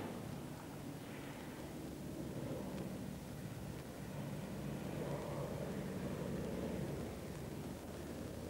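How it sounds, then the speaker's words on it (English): A distant airplane drones steadily overhead beside a runway, a broad, even rumble with wind buffeting, continuous for several seconds and no voices. "There's another airplane."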